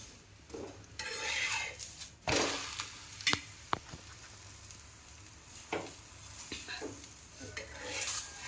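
A pan of oil sizzling and being stirred, with scraping and clatter of utensils, several sharper knocks along the way, and quiet hiss between them; no talking.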